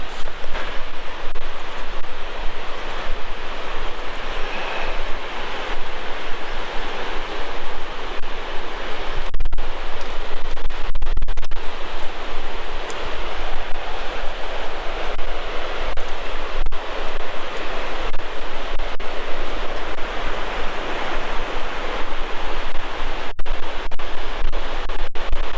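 Steady, loud rushing water close by, a continuous broadband wash that never lets up, with a few brief knocks and dropouts along the way.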